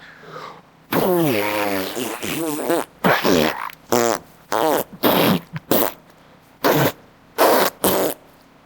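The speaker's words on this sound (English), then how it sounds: "It was the worst fart of his life. It made a tremendous noise and shot him across the room." Storybook dog lets loose a series of loud, wet, sputtering farts, a long rippling blast followed by several short bursts in a row, close and prominent.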